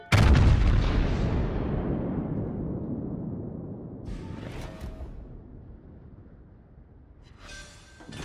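A heavy battleship gun salvo from World of Warships booms loudly at the start, then a long rumbling decay fades over several seconds as fainter shell whooshes and distant impacts follow.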